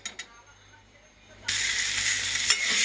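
Fish curry masala in a pan sizzles loudly once water is stirred in, a broad steady hiss that starts abruptly partway through after a few quiet clinks, with a brief voice at the start.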